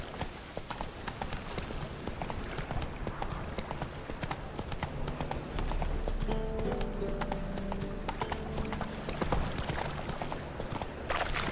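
Horse hooves galloping in The Witcher 3 video game, a steady rapid clip-clop running throughout, fairly close, over low game music and ambience.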